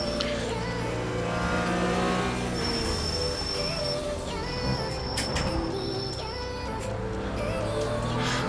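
GT4 race cars lapping Charlotte in the iRacing sim produce a dense, continuous engine drone and revving, with several cars whining together and a few higher tonal whines rising and fading.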